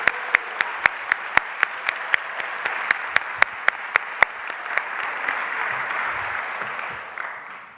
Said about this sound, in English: One more round of applause for them, please.